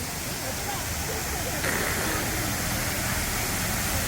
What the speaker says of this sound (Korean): 인공폭포 같은 것도 만들어져 있고